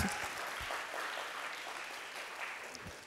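A congregation breaks into applause, a fairly quiet but continuous roll of many hands clapping with a few sharper nearby claps standing out.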